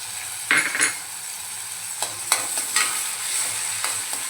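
Chopped tomato and browned onion with a pinch of cumin sizzle in a pan for a Malvani-style wet cashew curry. A steady hiss runs throughout, broken by several sharp scraping stirs near the mic.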